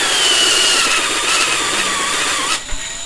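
A drill cuts an engine valve seat at reduced speed, a close, loud whine with a slowly shifting pitch that stops abruptly near the end.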